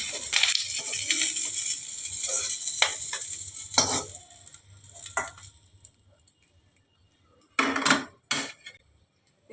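Banana blossom patturi wrapped in banana leaf is lifted off the stove in a pan with a burst of scraping, sizzling and clattering metal, then near silence broken by a couple of sharp clinks.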